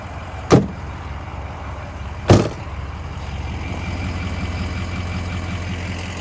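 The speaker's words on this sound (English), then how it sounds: "Nice and quiet idle, not too loud at all. Sounds good, you can hear the turbo" A 2005 Ford Excursion Eddie Bauer with a 6.0L Powerstroke diesel settles into a steady, fairly quiet idle with a low rumble, broken by two sharp door-like thumps near the start.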